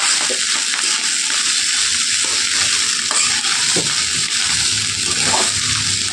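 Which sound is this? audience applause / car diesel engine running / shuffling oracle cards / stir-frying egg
stir-frying egg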